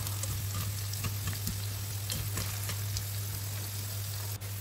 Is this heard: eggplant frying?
yes